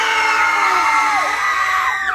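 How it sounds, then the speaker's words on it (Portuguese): Schoolchildren in a classroom shout together as loudly as they can on cue, a sustained, dense, very loud burst of many young voices yelling at once. "vocês gritam, tá bom?"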